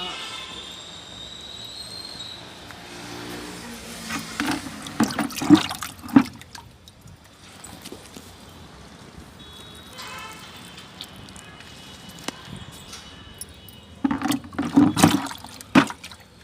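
Fermented mango fruit fertilizer liquid pours and splashes onto potted plants in short bursts, with quiet gaps between pours.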